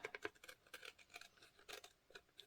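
Scissors snip along a paper edge, a quick series of close, crisp cuts in an irregular rhythm, quiet and alone.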